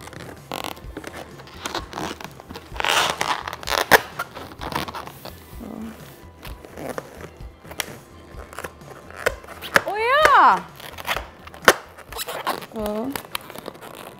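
A balloon being twisted and squeezed into shape, giving rubbery crinkles and a few sharp rising squeaks near the end, under steady nearby talk.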